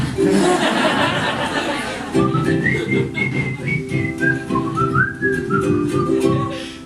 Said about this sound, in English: I know I'm whistling and it sounds like a happy song.